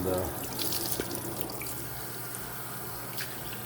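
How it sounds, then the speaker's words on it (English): Tap water runs steadily into a sink as a brined pastrami brisket is rinsed, with splashing and dripping throughout, close and fairly loud. "Now I'm going to wash off this brisket"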